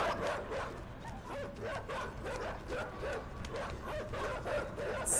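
Dogs bark and yip repeatedly in the video game Inside, a rapid series of fairly close, sharp calls over steady game background noise, with no talk.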